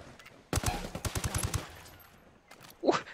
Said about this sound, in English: I just shot him like 8 times